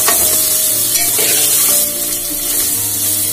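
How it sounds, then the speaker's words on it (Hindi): Soybeans and onion fry loudly in a pan for a multigrain khichdi, a dense close hiss of oil with continuous scraping stirs and no talking. "अब इसमें डाल दूंगी मैं सोयाबीन, सोयाबीन को थोड़ी देर के लिए भूनेंगे"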